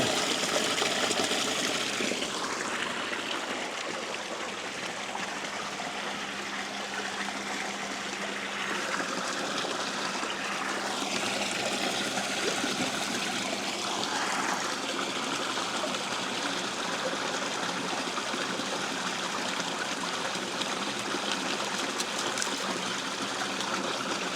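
Water pumped through a purpose-built gold trap contraption, bubbling and splashing steadily and up close, a continuous trickling wash with no talk over it.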